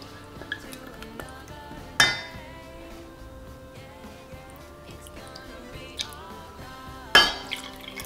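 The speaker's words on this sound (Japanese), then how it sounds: "お鍋にソースの材料をすべて入れていきます" Barbecue sauce ingredients tumble into a pot with a few sharp clinks and knocks, two louder clanks standing out among soft drips and light kitchen rattling.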